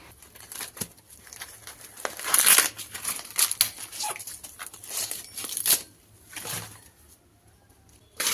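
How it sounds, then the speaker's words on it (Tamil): Husks are stripped by hand from three corn cobs, giving bursts of dry crinkling, tearing and rustling that come and go irregularly, close up with quiet gaps between. "தோல் நல்லா நீக்கி எடுத்துட்டு"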